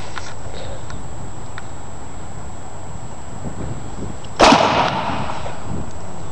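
A BL-520 spud gun fires a single loud pneumatic bang as the projectile punches through 1-inch plywood outdoors, a sharp crack with a short ringing tail over steady wind noise.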